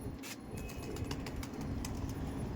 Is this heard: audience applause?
no